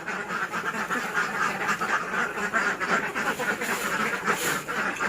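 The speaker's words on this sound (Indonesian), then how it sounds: "ini bebek petelur" A flock of about 200 laying ducks in a small-scale farm pen quacks continuously, many overlapping calls forming a dense, steady chorus.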